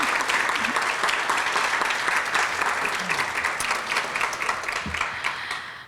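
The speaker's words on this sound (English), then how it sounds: "Can we give her a round of applause?" Audience applause for Nicole at a library's 130th anniversary open house, a dense, steady wash of many hands clapping for about six seconds and fading slightly toward the end.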